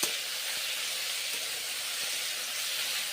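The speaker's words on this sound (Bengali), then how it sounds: "সজনে ডাঁটাগুলো ভেজে নিচ্ছি।" Drumsticks (sajne data) sizzle in a pan for a vegetarian curry alongside tomato, brinjal and green chillies, giving a steady, loud, hissing fry that holds even throughout with no talking.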